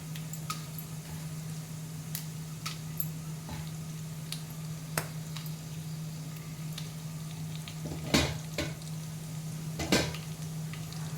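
Mustard seeds, cumin and dried red chilies crackle and sizzle in hot oil for a mango pickle tempering, a steady close fry with scattered sharp pops and a couple of louder spatters near the end.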